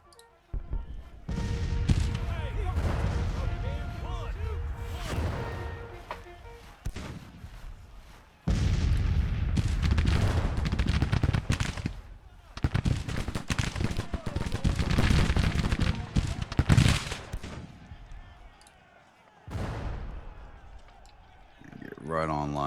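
Bursts of musket volleys and booming artillery from a Civil War battle in the strategy game Grand Tactician: The Civil War come in loud rolling waves separated by brief lulls, with voices calling orders over the fire.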